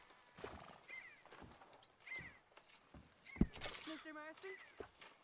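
A horse in Red Dead Redemption 2 clip-clops in a slow, even walk under a speaking voice, and a short whinny rises near the end.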